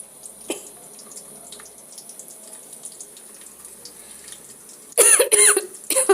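A quiet stretch with faint kitchen clatter gives way to several loud, sharp coughs near the end, close to the listener.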